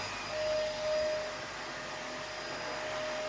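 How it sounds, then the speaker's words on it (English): A household vacuum cleaner runs steadily in a house, a loud continuous whooshing drone with a faint whine and slight swells in level, no talking. "He's doing all vacuuming."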